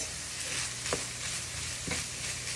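Finely diced Vidalia onions frying in a pan for old-fashioned goulash, a close steady sizzle with two quick scraping stirs of a utensil against the pan, no voices.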